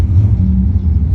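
Dragster racing down a drag strip, a loud, close, steady low engine rumble holding without pause for a brief moment.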